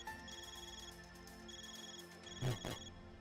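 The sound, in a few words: Xipha phone ringing in Trails through Daybreak video game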